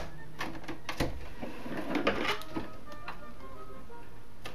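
A home sewing machine stitches back and forth across a seam on roll-up summer shorts, a soft, uneven run of mechanical clicks and ticks close by with a few brief louder knocks, no talking.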